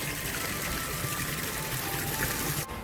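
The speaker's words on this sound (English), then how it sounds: "the sound of the water and the fish" Water flows steadily into a fish pond inside a greenhouse, a continuous close gush and trickle that runs unbroken before cutting off abruptly near the end.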